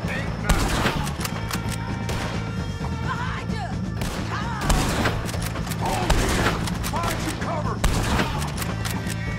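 In a Western shootout inside a video game, a prison breakout against O'Driscoll gang members, bursts of gunfire crack repeatedly in irregular volleys, sharp and loud, with shouted voices mixed in.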